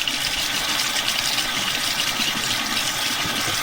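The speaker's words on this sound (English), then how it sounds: "I'm going to take this one over to the sink. And I had good luck just rinsing these off." A freshly dyed item rinsed at the sink under a steady, loud gush of tap water, running continuously and close by with no pauses and no voices.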